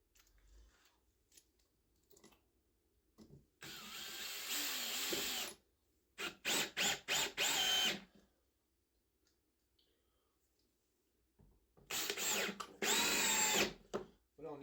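A power drill drives a couple of screws to mount a vise on a workbench, several loud whirring bursts of varying length with short stutters between them, separated by pauses and brief clatter.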